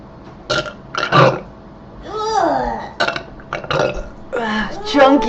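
A woman lets out a string of loud, close burps of different lengths, some long and drawn out and others short and choppy. Brief vocal sounds fall between them.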